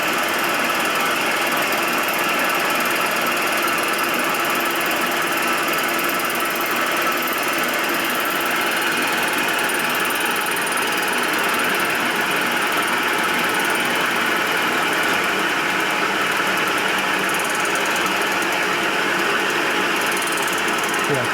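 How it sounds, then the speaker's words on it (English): Machine cutting the exhaust port of a Harley shovelhead cylinder head, heard as a steady, continuous mechanical whir and grind that holds close and loud throughout, with no voices. "I'm cutting the exhaust port right there."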